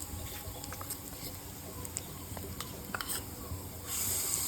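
Masala paste is stirred into sautéed onions in a pan for Kerala kadala curry, giving a soft steady sizzle with faint scraping and patter, quiet and continuous, with no speech.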